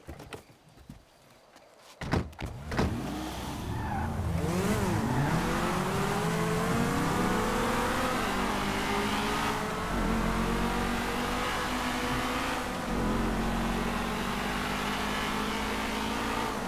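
Cars in Grand Theft Auto V rev and race away after a quiet start, a loud sustained engine roar with rising and falling pitch sweeps through gear changes, continuous and close for most of the stretch.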